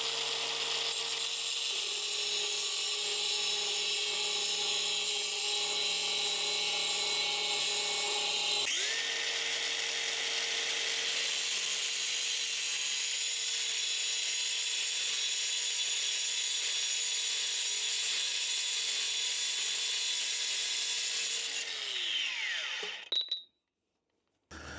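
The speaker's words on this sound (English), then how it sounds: "So this is the little disc cutter, now the mini DeWalt disc cutter." A mini DeWalt disc cutter grinds through patio stone in one long, loud, continuous whine. A brief pitch dip marks a shift partway through before the motor spins down and stops at the end.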